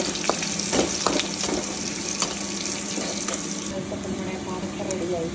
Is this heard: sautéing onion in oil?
yes